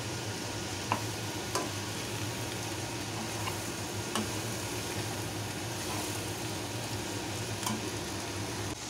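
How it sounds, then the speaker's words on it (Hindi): Fried cauliflower and potatoes get mixed into hot, oily masala in a pan. A constant low sizzle runs underneath while a spoon taps and scrapes now and then, with no voices. "अब हम इसमें अपने फ्राई किए हुए गोभी और आलू को ऐड कर देते हैं। इसे अच्छे से मिक्स करें।"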